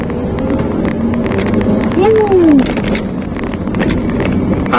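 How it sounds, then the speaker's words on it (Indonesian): Toyota Avanza engine accelerating in second gear, a steady loud drone with rising revs under heavy wind buffeting, the pitch climbing briefly partway through. "Kita tes akselerasi ya. Kita ambil jarak dulu."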